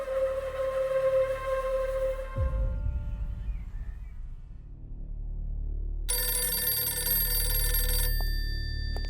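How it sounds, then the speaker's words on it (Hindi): A telephone bell rings in loud, repeated bursts indoors, breaking off for a stretch of low rumbling noise before a bright electronic ring resumes, with no voices. "फोन बज रहा है सर, उठा लीजिए।"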